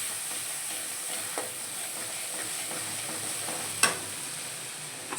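Mustard paste fries in hot oil with a steady, soft sizzle and hiss while a utensil stirs it, giving occasional sharp scrapes and clacks against the pan.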